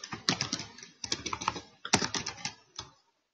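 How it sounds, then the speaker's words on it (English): Quick bursts of typing on a computer keyboard, close and crisp, in three short runs of clicks followed by a single final keystroke and silence. "Let's type in Pitbulls."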